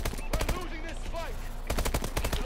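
Bursts of automatic fire from the AMR rifle in Call of Duty: Advanced Warfare, rapid close shots at the start and again near the end, with game chatter in between.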